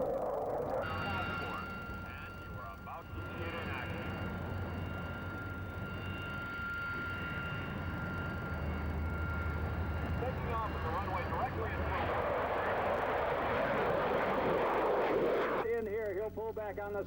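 Aircraft at air shows, ranging from warbirds to the SR-71 and aerobatic teams, fly overhead in a broad, continuous engine roar that swells louder toward the end, with a voice talking over it.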